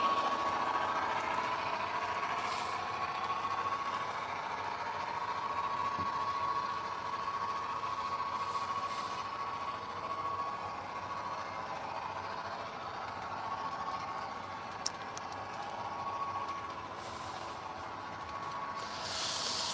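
A Scale Trains model train locomotive's sound unit plays a steady engine drone with a humming tone, continuous and fairly faint, with a few small clicks and no talking.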